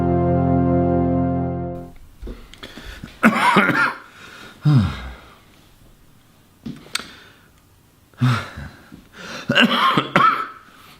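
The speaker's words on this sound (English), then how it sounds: "I'm coughing up a lot of stuff" A person recovering from a virus coughs in several rough, wet bursts spread across the stretch, some single and some in clusters, close to the mic after a short steady electronic tone at the start.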